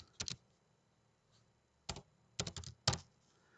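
Keys on a computer keyboard tapped in quick clustered bursts: a double stroke, a pause, then a rapid run of clicks, close and clear in a quiet room.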